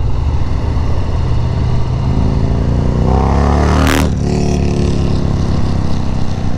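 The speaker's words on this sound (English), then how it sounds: "Yeah, that exhaust sounds good." A 2019 Harley-Davidson FXDR motorcycle with a 114 engine roars loudly and steadily through its exhaust, its pitch climbing as it revs up, then dropping back to a heavy rumble, close and continuous.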